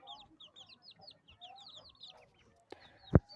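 Chickens cluck and chirp softly in quick, scattered bursts nearby, followed by a sharp thump near the end.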